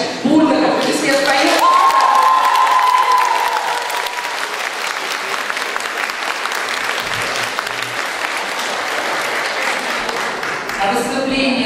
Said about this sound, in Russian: заслуживают, конечно, бурных аплодисментов